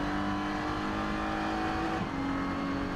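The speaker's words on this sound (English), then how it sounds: "a slow BMW just ahead of Christopher Mies, they accelerate out of the slow zone." An Audi R8 and a BMW race car accelerate hard out of a slow zone at the Nürburgring 24-hour race, their engines roaring loudly and steadily at close range for the whole stretch.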